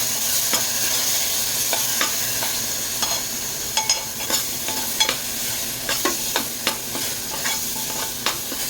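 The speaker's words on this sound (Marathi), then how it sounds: "वाटण छान असं तेलावरती परतून घ्यायचं" Raw spice paste sizzles in hot oil while a spatula stirs and scrapes it in quick, repeated strokes, close and fairly loud, while making Konkani-style buttermilk kadhi.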